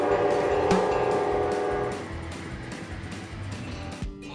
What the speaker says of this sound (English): I told you that train was coming.